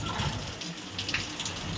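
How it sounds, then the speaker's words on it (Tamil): Heavy rain pours down outside a home, a dense continuous rush of water splashing close by, steady and loud with no break. "பாருங்க செம்ம மழை பெஞ்சிட்டு பப்புள்ஸாக இருக்கும்"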